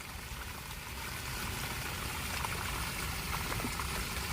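Rainwater steadily trickling and running through a 350-foot French drain in a Royal Oak, Michigan yard after four inches of rain, a continuous close-up wash of flowing water that swells slightly partway through.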